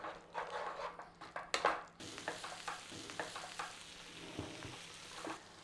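Mushroom madras curry cooks in a pan, a soft close sizzle with scraping and stirring clicks, a louder clatter early on, then steady bubbling frying settling in underneath.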